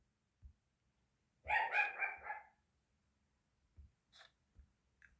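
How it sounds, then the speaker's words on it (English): A dog barks a few times in a short burst from a distance, followed by quiet thumps and a faint yip. "I'm just going to pause while the dog is barking."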